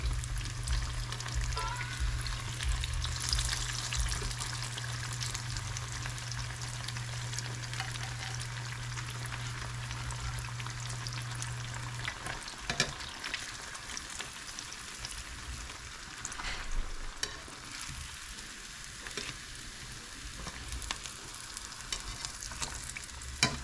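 Continuous sizzling of fish fillets frying in a pan, a steady crackling hiss with occasional stirring scrapes and pops, close up.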